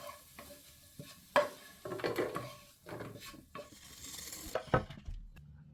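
Fried vegetables are tipped out of a pan into a 3-litre pot, with scraping, clinks of a utensil against metal and soft sizzling in a few short bursts, close and fairly quiet.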